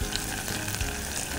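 Spices sizzle in hot oil in a frying pan while being stirred, with a steady, dense crackling hiss that runs continuously and close up, no voices over it.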